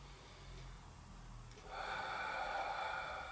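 Exercise-class participants breathe out forcefully in a soft gym class, a long breathy exhale rising and holding steadily over low room noise.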